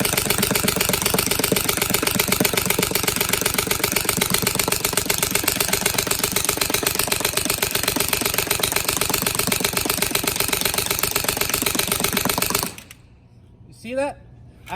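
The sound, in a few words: gun firing in full auto mode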